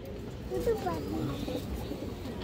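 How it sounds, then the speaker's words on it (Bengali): A lively, restless domestic pigeon coos softly in a brief, low, quiet phrase, with faint voice-like sounds in the background. "অনেক চঞ্চল একটা কবুতর"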